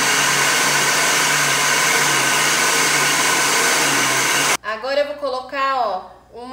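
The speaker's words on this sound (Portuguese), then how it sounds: "Vou bater mais um pouquinho aqui no liquidificador." A kitchen blender whirring as it mixes pão de queijo batter, a loud continuous motor roar for several seconds that cuts off abruptly, followed by someone speaking.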